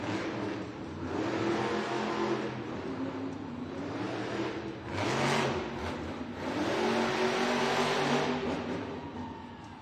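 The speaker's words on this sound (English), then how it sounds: "Make some noise for Michaela Teluchka in Megalodon." Megalodon monster truck at a Monster Jam arena event in Hidalgo, Texas roars with rising and falling revs, a few swelling surges of a big engine heard from a distance over a wash of arena noise.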